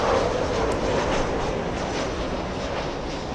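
An airliner takes off at LAX with a loud, continuous roar of jet engines that fades gradually as the aircraft climbs away, with no talk over it.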